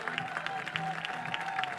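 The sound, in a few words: applause from fans at a softball game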